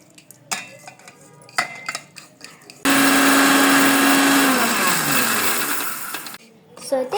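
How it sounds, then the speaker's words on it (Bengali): An electric blender whirs loudly and steadily for about three and a half seconds as it blends firni mixture, its pitch dropping as it slows. A few light clinks of utensils come before and after. "এখন এটাকে 1 মিনিটের জন্য ব্লেন্ড করতে হবে। এখন এটা ব্লেন্ড করার টাইম।"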